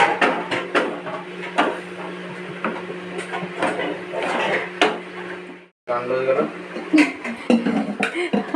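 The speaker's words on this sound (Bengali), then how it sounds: "হাড়ির ভিতরে সসপ্যান ঢুকে গেছে আর বেরোচ্ছে না" A saucepan jammed inside a cooking pot is knocked and jiggled, giving repeated sharp metallic clanks and scrapes at close range, with someone talking over them and a brief pause partway through.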